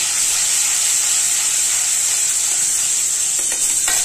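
Ginger garlic paste frying in a pan for misal, a steady loud sizzle and hiss that continues throughout with faint stirring near the end.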